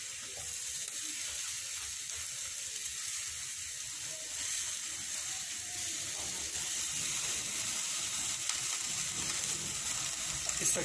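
Beef steaks sizzle on a Giulietta Cotherm electric grill, a steady broadband hiss that holds evenly and grows slightly louder toward the end, with no voices over it.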